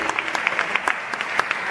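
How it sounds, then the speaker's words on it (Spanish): Theatre audience applauding at a charity gala, a steady wash of dense clapping with sharp individual claps poking out, fairly loud and close, with no talking over it. "un aplauso fuerte"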